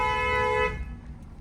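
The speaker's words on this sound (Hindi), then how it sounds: "हॉर्न दो, हॉर्न" Car horn honking steadily for about 0.7 seconds while a learner drives through a narrow lane, then cutting off to leave quieter engine and road background.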